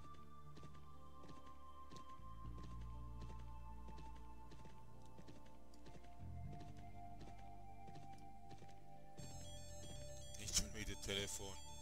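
A telephone rings in short, warbling tonal bursts near the end, during a German Let's Play of Champions of Regnum, over steady game sounds and background tones.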